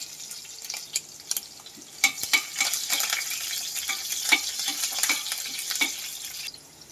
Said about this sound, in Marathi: चार मिरच्या बारीक कट करून घेतलेल्या आहे त्या पण लसणासोबतच चांगल्या परतून घ्यायच्या